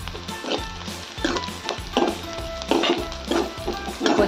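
Chopped onion with green, red and dried chillies sautéing in a pan, a loud close sizzle with rhythmic spatula strokes and scrapes repeating about every half second.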